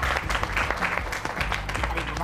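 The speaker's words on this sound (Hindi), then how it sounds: "ताली मारो ना भाई।" Brief audience applause at a children's comedy show, a short patter of clapping heard alongside voices.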